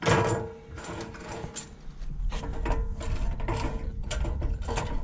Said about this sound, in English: So right here we're just snugging up those bolts